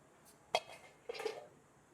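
An aluminium idli steamer pot has its lid lifted, giving two light metallic clanks about half a second apart, the second followed by a brief rattle, heard close by in a quiet kitchen.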